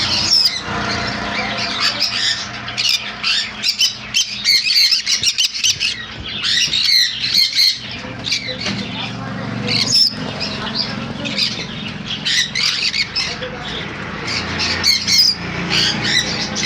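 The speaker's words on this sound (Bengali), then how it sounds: "ফুল অ্যাডাল্ট পাখি ব্লু কনুর।" Adult blue conures along with sun and pineapple conures squawk loudly and nonstop in a bird shop, a dense chorus of harsh overlapping shrieks with no voices heard.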